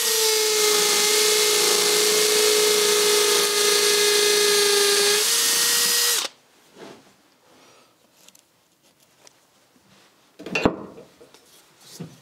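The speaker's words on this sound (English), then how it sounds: "So let's start drilling." A power drill bores into the wall of a 1616 house under restoration to fit wall hooks, whining loudly and steadily for about six seconds before stopping, followed by quiet scraping and handling noises.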